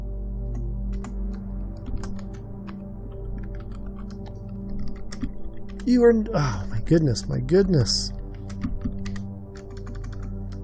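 Computer keyboard typing, clicky and close, ticks through the clip while an X-COM Apocalypse game plays in the background; a man exclaims briefly in the middle over the tapping.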